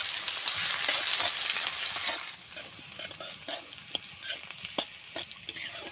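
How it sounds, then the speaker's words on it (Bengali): Black cumin seeds, chopped green chili, garlic and onion hit hot oil with a loud, dense sizzle that drops sharply after about two seconds to a quieter crackle broken by scattered stirring scrapes. "ফোড়ঙে দেব কালো জিরে এখানে কাঁচা লঙ্কা কুচি রসুন কুচি আর পেঁয়াজ কুচি আছে দিয়ে দেবো তেলে"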